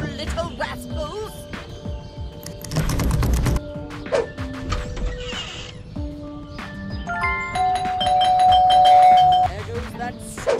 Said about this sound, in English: There goes that stupid bell again.